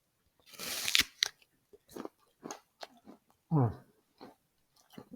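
Crisp bites and crunchy chewing of a freshly picked apple, washed but blemished, sounding close and dry in several separate bursts with short pauses between them.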